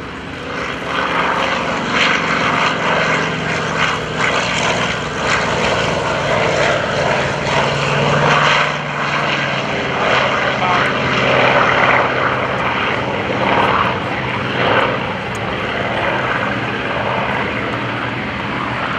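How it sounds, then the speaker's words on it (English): A propeller warplane, an F4U Corsair, roars past at a World War II airshow, its engine drone loud and continuous, swelling and shifting pitch as it passes, with no voices. "Take a look at the airplane as he comes by this time."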